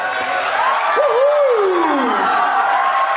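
A dense crowd roars and cheers at a college event, with a steady wash of noise and a rising, falling whoop riding over it, loud and sustained throughout.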